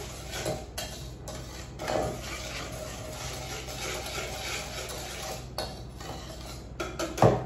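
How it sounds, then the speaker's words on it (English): A whisk clatters and scrapes against a metal pot while mixing a chocolate ganache. Metallic taps and a steady swishing run through the clip, with a sharper clink near the end. "I'm just gonna whisk it around and take it over to the gas stove"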